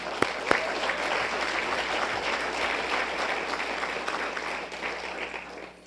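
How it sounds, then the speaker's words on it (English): Applause at a high school athletics hall of fame ceremony, a sustained crowd clapping in a hall, moderately distant and even, with a couple of sharper claps near the start before it fades slightly at the end. "I think that's an applause."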